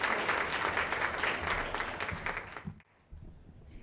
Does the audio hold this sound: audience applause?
yes